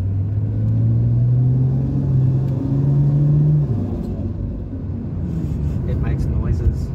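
A 600 HP boosted Ford G6E Barra turbo car idles with a deep, steady engine rumble that holds level, then drops in pitch and settles into a lower idle while people talk nearby.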